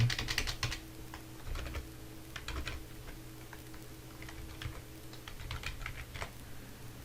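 Fingers type on a computer keyboard while working in Sage 100 commercial management software. Steady, close key clatter comes in quick bursts with a louder flurry at the start, and no one speaks.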